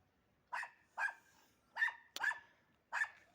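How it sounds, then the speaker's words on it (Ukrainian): A dog barks five times in sharp, evenly spaced yaps, fairly close, with quiet pauses between each bark. "У мене та собака така вредна моя."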